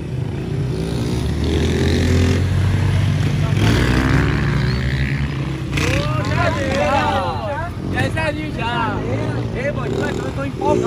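A Honda Start 160 motorcycle revs hard during a wheelie attempt, its engine buzzing loudly and continuously while people shout and talk nearby.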